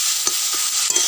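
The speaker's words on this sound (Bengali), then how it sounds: "দিয়ে ভালো করে এই মোচাটা একটু কষিয়ে নেব।" Chopped banana flower sautéed in a pan with salt and turmeric, a steady close hiss of frying with a few soft scraping stirs over about a second, no voices.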